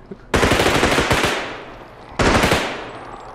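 Gunfire in a zombie video game: two loud, close bursts of rapid automatic shots, each rattling off quickly and fading, separated by a short pause.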